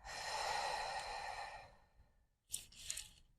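A slow, deep exhale during a breathing exercise: a long, soft, breathy whoosh up close that fades over about two seconds, followed by a brief pause and two short, quick breath sounds.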